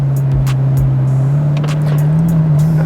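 A Ferrari F430 Coupe is heard from on board with a loud, steady engine drone that rises slowly in pitch as it drives, with a few faint clicks and knocks over the top.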